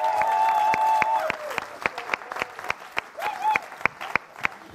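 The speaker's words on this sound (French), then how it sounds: "Je vous demande de faire un tonnerre d'applaudissements pour Gaël Régnier." Applause for Gaël Régnier at a business sales talk, strong at first and then thinning into scattered separate claps, with a tonal musical or feedback line sounding over it.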